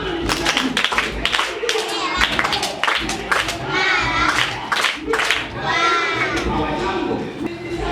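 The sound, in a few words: group clapping for a child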